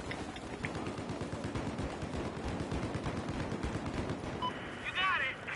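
Sustained automatic gunfire in the first-person shooter Battlefield 4 during a Conquest match on the Zavod map, dense rapid shots rattling continuously for several seconds with a brief louder burst near the end.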